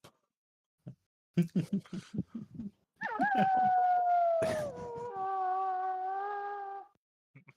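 In a League of Legends match, a wolf-like creature gives a long, wavering howl that holds for several seconds after a burst of short choppy sounds, loud and close in the game's sound mix.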